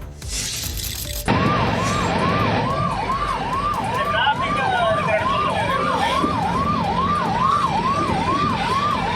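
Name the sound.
ambulance siren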